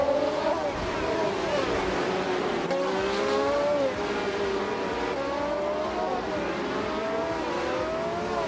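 Race cars in a racing video game, a Fittipaldi FD03 among the pack, engines whining and rising and falling through gear changes, several cars overlapping at steady volume with a faint voice underneath.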